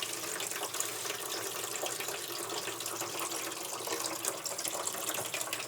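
A steady stream of water pours out of a GE washer's opened drain pump filter into a tipped bucket, a continuous even splashing flow at close range.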